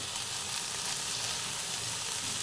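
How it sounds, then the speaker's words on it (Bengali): Meat frying with leafy greens in their own released water, a steady, even hiss of sizzling fat and liquid, close and constant with no stirring strikes or voices. "এই পানিতে ভাজা হয়ে যাবে, শাকের পানিতে ভাজা হয়ে যাবে"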